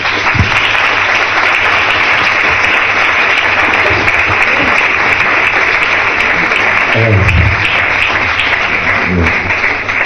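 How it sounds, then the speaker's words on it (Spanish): An audience at a book fair opening speech in Trujillo gives loud, sustained applause, a thick continuous roar of clapping lasting the whole stretch with faint voices mixed in. "Un fuerte aplauso para Andrés Aberasturi."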